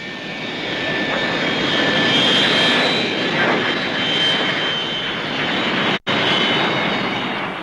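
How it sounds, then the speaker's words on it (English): A de Havilland Comet 4 jet airliner applies reverse thrust on landing, a loud sustained broadband jet roar with a whining tone that swells and holds, with a momentary cut near the end. "The use of reverse thrust enables it to operate from quite small airfields."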